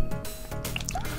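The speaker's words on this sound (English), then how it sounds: "Like that splash effect could have come from a different game." Water splash effect from the Mega Drive/Genesis game Chester Cheetah: Wild, Wild Quest, a short, dense, wet burst with bubbly drips over game music.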